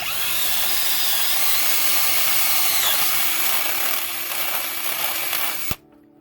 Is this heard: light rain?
no